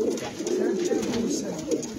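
Pigeons coo continuously close by, a soft throaty warbling that rises and falls with no pause.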